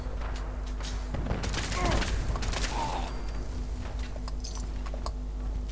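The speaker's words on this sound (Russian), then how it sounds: "Из-за этих всех взрывов" Rapid bursts of Fallout 4 gunfire and explosions crackle through a steady, dense mix with a constant low hum underneath.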